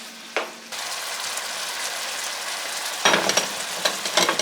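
Steak meat for a keto soup frying in a pan, a loud, steady sizzle that bursts louder as the meat is stirred, alone with no talk.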